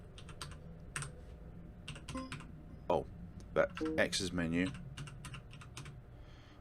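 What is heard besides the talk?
computer keyboard keys being pressed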